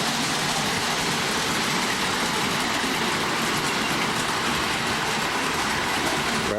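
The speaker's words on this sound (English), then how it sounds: "The passenger train of that is a replica of the Norfolk and Western Powhatan train." A model passenger train, a replica of the Norfolk and Western Powhatan, runs along its track with a steady, close rumbling clatter that holds constant for several seconds and has no talk over it.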